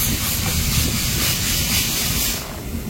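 A steam train at a busy heritage railway station gives off a loud, steady hiss of escaping steam close by, a broad unbroken rush that fills the moment with no voices.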